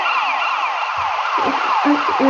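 A loud ambulance siren from the video game GTA Chinatown Wars wails continuously in sweeping, repeating electronic tones, close and dominant throughout.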